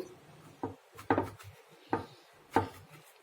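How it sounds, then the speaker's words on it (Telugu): A knife slicing a brinjal (eggplant) into four pieces on a wooden board, four distinct close thunks at uneven intervals over quiet background. "చూసారా, ఇట్లా 4 పక్షాలుగా కాయల్ని కట్ చేసుకుందాము"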